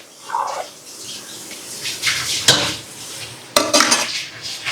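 A spoon scrapes and clinks against a metal pot as rice and masala for a quick ready-mix biryani are stirred together, with a few sharper knocks near the end and no talking.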